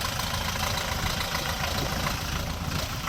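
A 50-horsepower compact tractor engine idles steadily, a constant low rumble with a dense noisy texture and no change in pitch, close and moderately loud throughout, with no voices.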